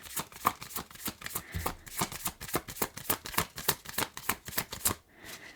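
A deck of cards being shuffled close up, a steady run of crisp riffling bursts with short pauses between them, heard alone with no talking.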